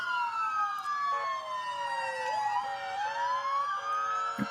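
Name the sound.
ambulance siren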